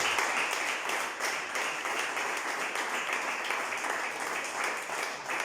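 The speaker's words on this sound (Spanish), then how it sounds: "Denle un aplauso a Cristo con todo el corazón" A church congregation at a Spanish-language service claps steadily together, a dense, continuous wash of applause at moderate level throughout.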